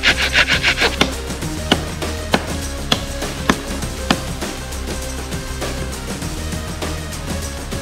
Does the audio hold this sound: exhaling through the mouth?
no